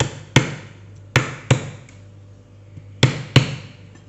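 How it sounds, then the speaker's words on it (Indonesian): Ginger being smashed with sharp pounding blows while preparing spices for chicken tongseng, five loud separate thumps in two uneven clusters, alone with no talk. "Jahenya tidak saya haluskan tadi ya, jadi saya pilih geprek aja."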